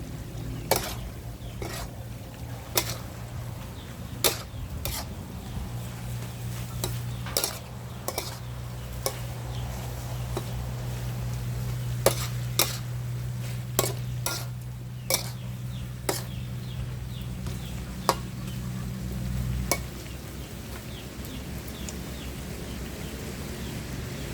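Spicy wild boar stir-fried with holy basil in a pan, with sharp metal spatula scrapes and clinks repeating irregularly over a steady low hiss and hum, close up, no talking.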